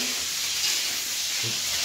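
Squid frying in a pan, a steady, bright sizzle and hiss filling the clip at close range, with faint low clatters and no talk.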